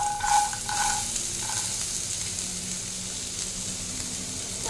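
Carrots stir-frying in hot oil in a pan for mixed fried rice, a steady close sizzle with a few scraping stirs early on, continuing evenly throughout with no talking.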